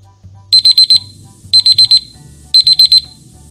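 An electronic alarm beeps in three clusters of four rapid, high-pitched tones, loud and close, with a low murmur beneath.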